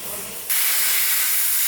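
Loud, steady hissing roar of a cutting tool slicing through a steel truck frame during an LBZ Duramax back-half build, starting abruptly after a brief quieter moment and continuing without a break.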